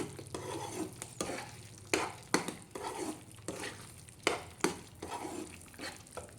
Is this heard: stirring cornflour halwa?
yes